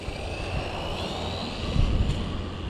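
A DeeRc 1/14 scale electric RC car driven at 70% throttle gives a continuous high-pitched motor whine, with a louder rumbling rush toward the end as it passes near.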